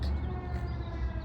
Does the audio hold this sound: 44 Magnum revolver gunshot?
no